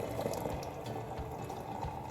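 Coffee brewing in a machine, a steady bubbling, gurgling hiss of hot water with soft dripping, close and continuous without talking.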